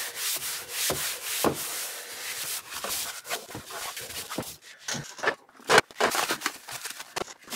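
A makeup organiser being wiped down by hand, heard as close, continuous rubbing and scrubbing strokes with irregular bursts and a few sharper scrapes, steady at moderate loudness.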